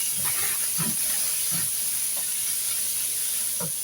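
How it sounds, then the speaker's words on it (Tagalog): Beef sautéing with onions in a pan gives a constant hissing sizzle, with a few soft stirring knocks spaced through it. "Igisahon ang beef."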